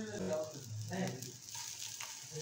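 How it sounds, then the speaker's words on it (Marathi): Mixed vegetable oats cutlets shallow frying over a low gas flame in a steel pan give off a soft, steady sizzle with faint stirring sounds, quiet and close, with a little speech. "हे मी लो गॅसवरती छान असं शेकून घेते आहे"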